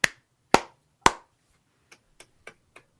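A small group clapping: three loud, sharp, spaced claps followed by four fainter, quicker claps, close and without talk.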